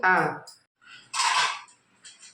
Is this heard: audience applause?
no